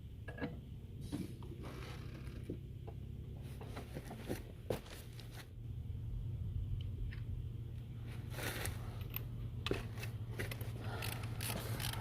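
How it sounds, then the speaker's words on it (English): A torque wrench tightening car wheel bolts, heard as bursts of fast ratcheting clicks in uneven runs, close and fairly quiet over a low steady hum, with no talk. "you hear a click when you get to the desired foot poundage"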